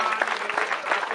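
Audience clapping at an anniversary ceremony for the Slovan Broumov club, a dense steady patter of many hands at moderate loudness with no pause.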